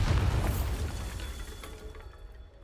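A Bombarda spell detonates in Hogwarts Legacy, a single heavy booming blast that rings out loud at first and then fades away over a couple of seconds.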